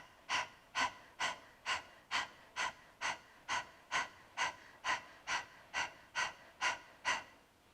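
Breath of Fire yoga breathing: a steady series of about seventeen sharp, forceful nasal exhalations at an even quick pace, close and clear with no talking.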